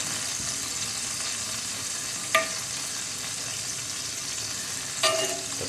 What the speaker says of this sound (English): Just give them a quick fry, few minutes on each side.